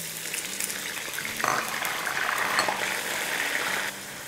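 Blended raw onion sautés in a hot pan, a steady loud sizzle that swells brighter midway and runs unbroken with no talking.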